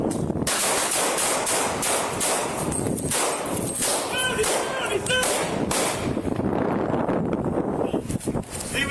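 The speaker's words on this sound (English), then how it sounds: "shots fired" Gunfire rings out during a police arrest at a roadside stop, a dense burst of sharp, loud cracks and bangs over a constant wind-blown rumble, with shouted voices nearby.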